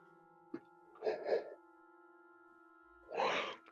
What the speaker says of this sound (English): my fake sigh turned into a real yawn